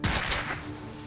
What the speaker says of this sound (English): so we need to use this box of fireworks again